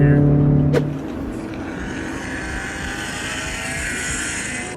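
A Mitsubishi Evo X with a Tomei exhaust drives past, a raspy engine note that swells briefly then fades into a low rumble, with voices talking over it.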